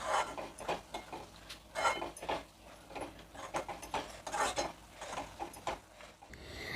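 A spatula stirs fresh cashews into a Malvani-style masala curry in a pan, giving soft, irregular scrapes and taps that come and go at close range with quiet gaps between them.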